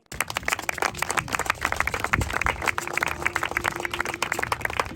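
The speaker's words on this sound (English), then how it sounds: "So, round of applause for our players, if we could" An audience applauds the musicians with steady, dense clapping from a crowd, continuous for several seconds at moderate loudness.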